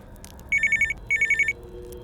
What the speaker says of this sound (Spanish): El sonido del timbre de mi teléfono móvil cortó como un cuchillo el silencio.